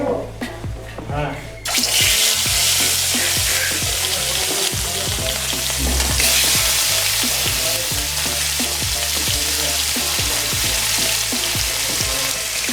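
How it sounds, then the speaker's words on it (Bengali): Marinated rohu fish pieces fry in hot oil for a Bengali fish curry, giving a loud, steady sizzle that jumps in intensity after a brief quieter start, with occasional stirring and clinking throughout. "মাছগুলো অলরেডি ম্যারিনেট করা আছে, এবার আমরা মাছটা ভেজে দেবো।"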